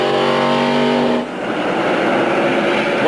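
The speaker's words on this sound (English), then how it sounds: "You can see he's got great acceleration off turn 4" Jeff Gordon's stock car accelerates hard off turn four onto the straightaway at a 1997 NASCAR race, a loud, raw engine roar whose pitch climbs steadily, with crowd and track noise beneath it.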